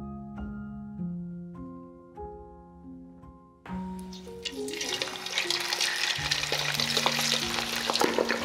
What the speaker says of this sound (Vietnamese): Dầu nóng già thì mình cho chân gà vào chiên.